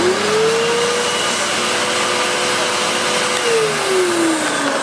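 A Hoover Purepower U3456 Autosense vacuum cleaner motor runs steadily and loudly up close, with a broad whooshing roar and a whining tone that rises, holds and then drops as the motor speed shifts.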